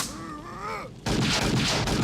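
Gunfire in a video game bursts in loud and sustained right after a brief voice, a dense, continuous volley of shots filling the rest of the moment.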